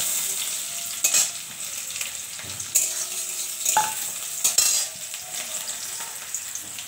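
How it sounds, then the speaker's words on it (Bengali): Chopped onion and green chilli fry with black cumin in hot oil for a teasel gourd stir-fry, a steady close sizzle broken by a few stirring scrapes, no talking. "পেঁয়াজ আর লঙ্কা কুচি দিয়ে দিচ্ছি।"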